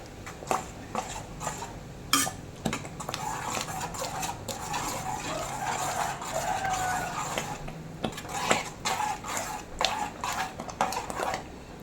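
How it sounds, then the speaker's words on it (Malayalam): Pumpkin payasam being stirred in a pot for a Kerala Onam sweet: a spoon scrapes and knocks against the metal in a steady, irregular run of clinks and scrapes over a soft bubbling background, with no talking. "കൈ എടുക്കാതെ ഇളക്കണം കേട്ടോ"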